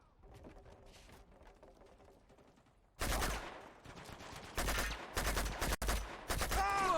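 Gunfire in the video game Uncharted 2 erupts after a quiet stretch, in loud, close bursts of rapid shots with brief gaps between volleys.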